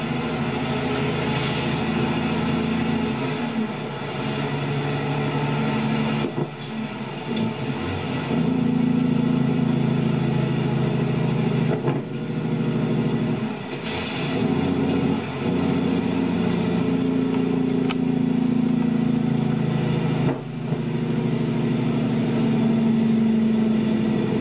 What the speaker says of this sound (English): this is slip shifting, where he takes the gear stick and puts it in neutral and then puts it back in the gear to